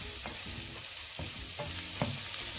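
Kebab mixture frying in a pan for chicken roll sauce, a continuous close sizzle with rhythmic scraping and clinking as it is stirred, no talk.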